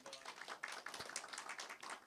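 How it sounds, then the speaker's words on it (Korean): Audience of apartment residents' representatives clapping to welcome a Suwon mayoral candidate at a policy debate, a brief, fairly faint patter of hand claps. "큰 박수로 환영해 주십시오."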